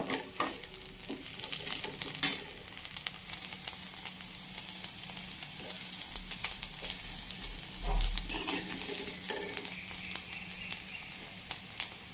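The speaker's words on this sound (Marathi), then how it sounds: "त्याच्यावर झाकण ठेवून त्याला मस्त आपण शिजू देऊ" Vegetables cook under a lid in a home kitchen pan, giving a steady soft sizzle with scattered stirring scrapes and light clinks; no one speaks.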